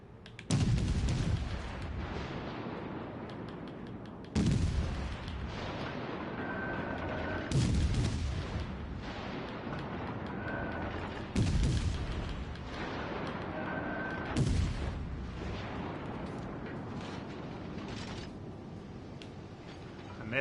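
Naval guns in World of Warships Legends fire heavy salvos at an enemy tier 4 light cruiser, five loud booming volleys spaced a few seconds apart, each trailing into rumbling mechanical noise and faint tonal game sounds.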